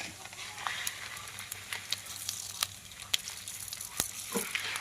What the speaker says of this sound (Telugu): మొత్తం అయితే బాగా ఫ్రై చేసేసుకున్నాము